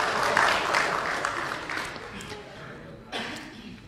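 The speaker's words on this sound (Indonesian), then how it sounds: "Tepuk tangan dulu buat Ibu Ega." Audience applause at a meeting of Dayak community representatives from Kalimantan with the Indonesian parliament (DPR), a dense wash of clapping that swells early and tapers, with a brief fresh burst near the end and voices mixed in.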